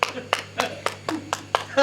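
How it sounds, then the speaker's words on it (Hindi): Applause at a Hindi kavi sammelan poetry gathering: a steady run of sharp hand claps in a regular rhythm, fairly close and moderately loud, over a faint continuous hum. "हाँ ताली बजाओ, इनकी सम्मान में जाओ, बहुत बढ़िया संचालक"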